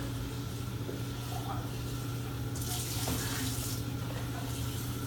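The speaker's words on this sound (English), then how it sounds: "I can open up the top, which allows me to rinse this faster" Tap water running steadily to rinse developed photographic film in an open developing tank, a continuous close broadband hiss of flowing water with a low hum beneath and a brief louder splash partway through.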